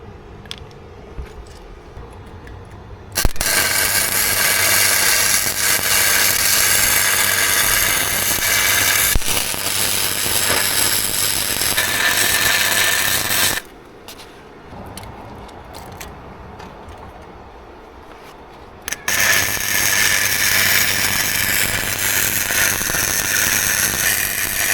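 A SIP Weldmate 100 amp welder lays beads on a Kubota mini digger. It gives a loud, steady crackling buzz in two long bursts of roughly ten and six seconds, separated by quieter pauses with faint ticking.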